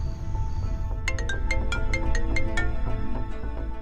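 A phone ringtone plays in a repeating electronic pattern of quick bright tones, steady and moderately loud over a low background drone.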